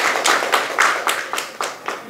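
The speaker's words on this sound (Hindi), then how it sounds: "आमे ताको करताली सहित स्वागत करूछु" Audience clapping to welcome a speaker at a political gathering, a short burst of sharp, fairly close claps in an uneven rhythm, with no talking over it.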